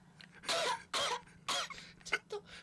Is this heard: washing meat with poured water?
no